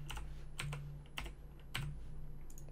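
Keys clatter on a computer keyboard as someone types a game title into a PC settings tool, coming in short quick bursts of clicks over a steady low hum.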